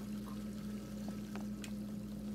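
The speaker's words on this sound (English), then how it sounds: "I'm gonna turn on all the water." Bathroom taps running in the video game Animal Crossing New Horizons, a steady soft pour of water under a constant low hum, with a few faint clicks and no talk.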